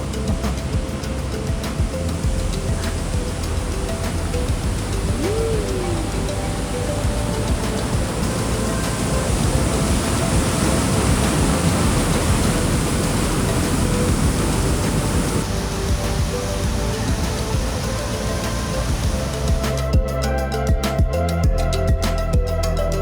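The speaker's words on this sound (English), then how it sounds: "Let's make a pit stop at the waterfall Salle la Source, a natural spectacle in this small town." Powerful seasonal flow of the Salle la Source waterfall in a small southern French town: a dense, unbroken roar of rushing water, loud and steady throughout.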